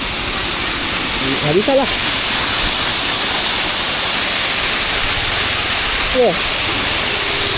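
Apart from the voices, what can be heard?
roadside waterfall, rushing water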